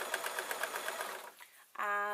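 Sewing machine stitching the inset pocket of a camera bag, a fast steady run of needle strokes for over a second before slowing off, then a louder whirring burst near the end.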